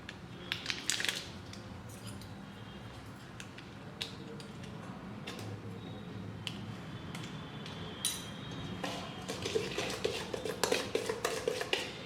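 Sunflower oil and butter stirred into brownie batter in a bowl, with repeated clinks and scrapes of a utensil against the dish, soft and close, growing busier toward the end, no talking.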